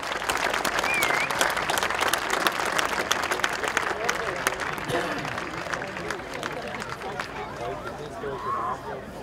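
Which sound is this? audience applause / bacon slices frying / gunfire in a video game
audience applause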